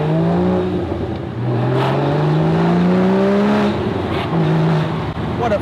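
A 2016 Porsche Boxster Spyder, a mid-engine roadster with a 6-speed manual, revs loudly and close up, its engine note sweeping up and down in pitch through several strong pulls with no talking.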